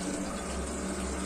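Hot water runs and leaks out steadily nearby, a continuous rushing, hissing flow with no pauses and no speech.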